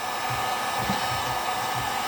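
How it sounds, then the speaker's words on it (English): A heat gun blows steadily and loudly, warming old undercoating on the axle of a 1956 Willys CJ5 Jeep, with a constant rushing hiss throughout. "get your heat guns out, heat that sucker up"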